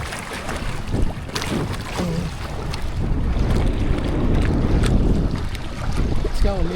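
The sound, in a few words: strong wind blowing on a boat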